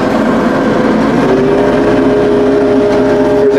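A 2022 New Holland Boomer 45 compact tractor's engine runs loud and close with a continuous drone, its pitch rising slightly and holding steady as it is put into low gear.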